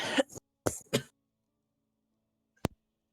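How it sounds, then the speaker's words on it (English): A few sharp coughs close to the microphone in quick succession, then silence and a single faint click. "Sorry, I had to cough."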